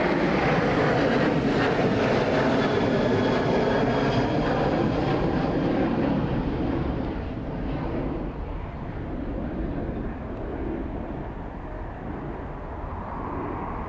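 A FedEx Boeing 767 jet on pushback at windy Dublin Airport gives a loud, continuous engine roar that slowly fades and thins, mixed with gusting wind noise.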